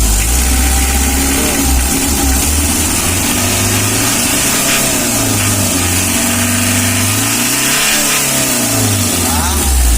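A Mitsubishi L300 engine that struggles to start when hot idles loudly and rises in two gentle throttle blips, its pitch swelling and falling back, heard close up and continuous.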